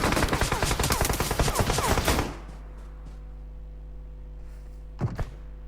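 Rapid automatic gunfire in the PUBG Mobile game, a dense burst of loud, close shots for about two seconds, then a steady low hum with a brief pair of shots near the end.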